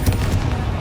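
A Confringo spell blast in the video game Hogwarts Legacy, one short loud booming burst with a rumbling low-end tail, heard close.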